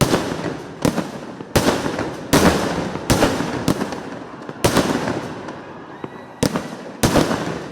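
Sample fireworks at Thrissur Pooram: a rapid series of sharp, loud firecracker blasts and aerial shell bursts, about a dozen sharp reports in close succession with crackling decay between them, heard outdoors without talk.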